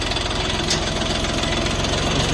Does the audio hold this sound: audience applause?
no